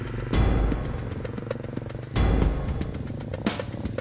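A motorcycle taxi hauling coconut sugar along a village road runs with a steady, loud engine drone that surges twice as the rider opens the throttle, with rattling and clatter mixed into the engine noise.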